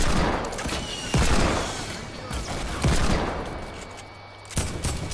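Gunfire in Fortnite, repeated heavy bursts of shots and sustained automatic fire, loud and close, with brief pauses between volleys.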